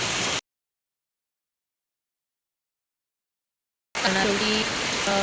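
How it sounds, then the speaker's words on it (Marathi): Heavy rain pours down beside a rushing torrent of water, a steady broadband hiss in two short stretches separated by a long silent gap, with a voice talking over the later stretch. "एवढा पाऊस पडतोय"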